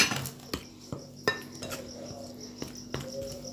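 A spoon or utensil clinks and taps against a bowl while donut dough is mixed with yeast and a pinch of salt: sharp, irregular knocks spaced about half a second apart over a soft scraping background, close and moderately loud.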